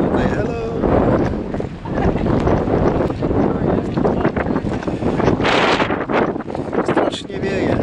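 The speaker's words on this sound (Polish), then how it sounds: "Strasznie wieje," Strong wind buffets the microphone in loud, continuous gusts at the Portara temple gateway on the island of Naxos, Greece, with a roaring, rumbling rush and no voices.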